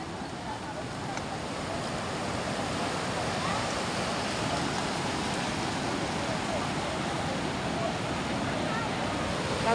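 Steady wash of sea water and waves, a continuous broadband roar holding level throughout with no voices.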